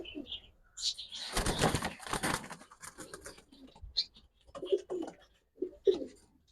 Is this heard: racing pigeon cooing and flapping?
yes